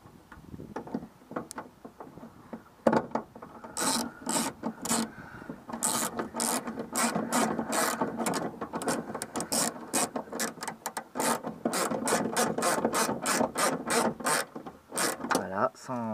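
A rear window regulator mechanism in a Renault Super 5 door being worked by hand, giving a steady run of clicking, rubbing mechanical sounds and ratcheting strokes over about sixteen seconds, close and fairly loud.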